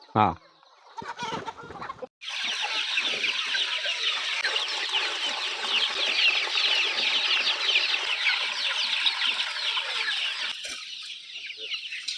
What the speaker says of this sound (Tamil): இது கம்ப்ளீட்டா சேவல் தானே.